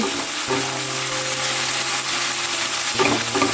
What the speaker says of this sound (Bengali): এখানে আমি আজকে পাঁচ মিশালি সবজি বসিয়ে দিয়েছি